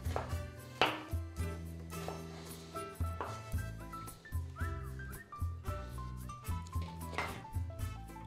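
Onion being finely chopped on a board, a series of knife taps under a melodic instrumental music track that dominates the mix, the chopping faint and irregular.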